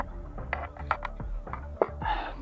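The bolt of a Browning M2 heavy machine gun is racked after oiling its receiver, a close series of metallic clacks and ratcheting slides with a sharp snap near the end, no talk.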